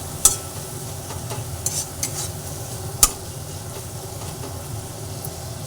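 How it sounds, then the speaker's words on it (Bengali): Spices with Kashmiri chilli powder, alongside onion and tomato, frying and being stirred in a pan: a moderate steady sizzle under scraping strokes and a few sharp utensil clinks, no one speaking. "দিয়ে একটু ভালোভাবে নাড়াচাড়া করে করে ভেজে নিচ্ছি"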